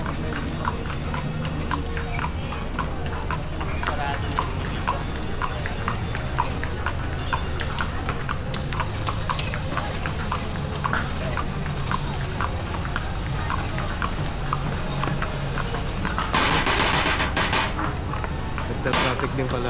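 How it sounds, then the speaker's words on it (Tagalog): Horse hooves clip-clop at a steady, even pace on pavement in slow traffic, with voices of people nearby throughout. "Nagta-traffic din pala kabayo."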